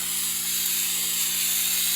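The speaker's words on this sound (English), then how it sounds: "I'm spraying the inside of this thing with black Flex Seal" Black Flex Seal sprayed inside a fiberglass helmet makes a steady, close aerosol hiss that runs without a break for the whole stretch, with no talking.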